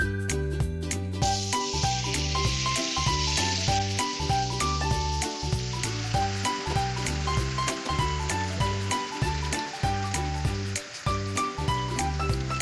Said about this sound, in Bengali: মুরগিটা হাই হিটে ভাজার মাঝে মাঝে একটু উল্টিয়ে দিচ্ছি যেন প্রপারলি কুক হয়